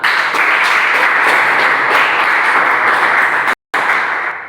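An audience at a moral-education session bursts into loud, continuous clapping, many hands close by in a steady roar that cuts off abruptly for a moment, then resumes and tapers away.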